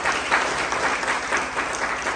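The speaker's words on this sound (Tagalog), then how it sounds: "Wala bang palakpak si Lord dyan?" Church congregation applauding during a sermon, a loud sustained wash of many hands clapping in an even, dense texture without pause.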